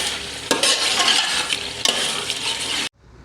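Peas and spices are stir-fried in a pan, with a continuous sizzle under brisk scraping strokes of a spoon. It stops abruptly near the end.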